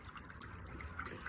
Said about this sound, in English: when you're draining the water down